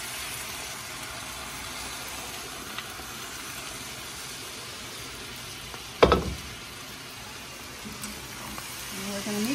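Hot tomato chipotle sauce hits a pan with a sudden loud splash and hiss, after a steady background sizzle, then settles back to a continuous frying hiss, with a voice speaking nearby.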